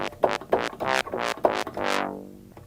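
Thin, bright high-pass filtered synth bass stabs from Native Instruments Monark play a quick rhythmic phrase with the low end stripped away, the last note ringing out and fading.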